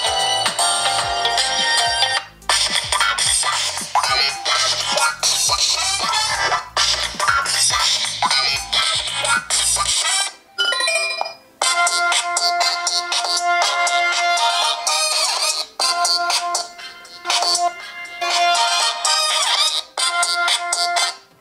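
A bright electronic ringtone melody plays loudly through the small speaker of an M-HORSE Pure 3 phone, repeating with short pauses between phrases.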